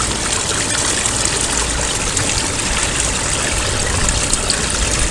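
Rainwater rushes through a grate into a clogged roof drain, a constant close hiss and gush of flowing water with no pauses, steady and fairly loud throughout.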